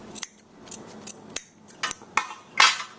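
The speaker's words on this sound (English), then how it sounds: "This is probably a little bulky, so I would go in there and snip it." Scissors snip through bulky skirt fabric during an alteration, giving a series of sharp, close cuts at an irregular pace, with a louder cut near the end and no talk.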